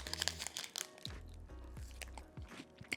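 Close crunchy bites and crinkly chewing of a protein bar, with several sharp crisp snaps early on followed by softer, moist mastication and no talking.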